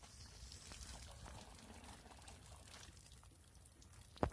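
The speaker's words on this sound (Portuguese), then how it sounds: "Nossa, o tio achou uma torneira, Ana." Water runs from an outdoor tap at a rural property with orchids, a soft continuous flow heard at a distance and fairly faint, ending in a sharp knock.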